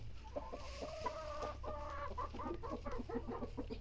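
Chickens kept on a goat farm, clucking in close, repeated bursts that form a continuous run of calls over a low background hum.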